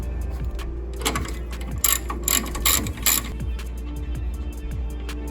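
Ratchet clicking as the top hat bolts on a Toyota Tundra's suspension are loosened during a lift and leveling kit install, a steady run of close, sharp pawl clicks in bursts with short pauses, no talking.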